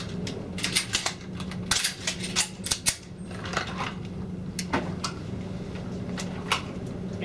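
Pistol rounds are loaded at a police shooting range during a combat match: irregular metallic clicks and snaps, close and crisp, over a low steady hum.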